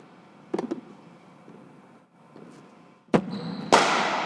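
Cricket bat striking a ball at a batting coaching session: a soft early knock, then two sharp, loud cracks in quick succession near the end over a quiet background.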